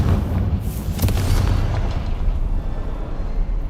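Bombarda spell explosion in the Hogwarts Legacy video game, a deep, booming blast with crackling bursts early on that settles into a loud, rumbling low roar.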